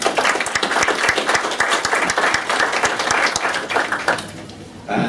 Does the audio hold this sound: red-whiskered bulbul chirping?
no